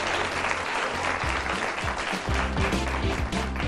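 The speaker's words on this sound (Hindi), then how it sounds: "हमारे लिए तालियां।" Studio audience clapping on a Pakistani Ramazan special morning show, a steady, loud wash of applause filling the whole moment with a little background voice and music underneath.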